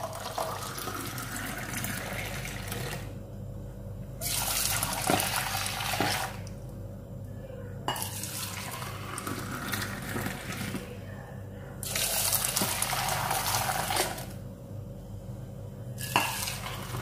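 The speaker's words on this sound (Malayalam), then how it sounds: "ഇനി നമ്മൾ തിളപ്പിച്ച് വെച്ചിരിക്കുന്ന തേയില വെള്ളം ഇതിലേക്ക് ഒഴിച്ചു കൊടുക്കാം" Boiled tea water is poured onto a beaten egg in a cup for egg tea, giving bursts of close liquid pouring and splashing separated by short pauses, with faint clinks of utensils between them.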